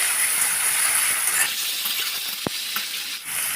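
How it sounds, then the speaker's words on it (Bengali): Marinated meat fries in a pan of oil, giving a steady close hiss of sizzling with a single clack partway through. No one speaks. "মাংসটা আমি ভালো করে ভেজে নেব"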